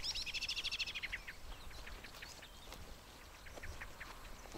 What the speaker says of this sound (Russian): Какие-то птички странные.